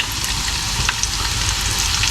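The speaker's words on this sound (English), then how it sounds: "they're already smelling pretty good, sizzling away" Calamari squid fry in a Teflon pan with a close, continuous sizzle and crackle of hot oil, scattered sharper pops rising above it, and no one speaking.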